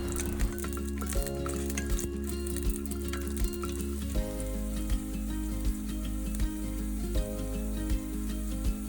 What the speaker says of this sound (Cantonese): 放1湯匙嘅油，放薑片同埋蒜頭落去炒到佢有微微嘅金黃色